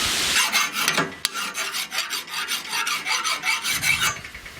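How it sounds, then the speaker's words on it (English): A metal file rasps in quick, regular back-and-forth strokes, smoothing freshly ground weld edges on steel spring hangers for a Stutz Bearcat cyclekart, close and loud with no talk. "Just kind of smoothing this grinding up off the edges. Smoothing it up with the file."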